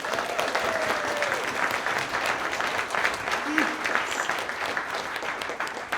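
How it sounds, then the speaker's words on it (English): An audience at a brand-launch panel event gives a panelist a continuous round of applause, a dense wash of many hands clapping at moderate volume that holds steady for several seconds, with faint crowd noise mixed in. "can I get a round of applause for Vu?"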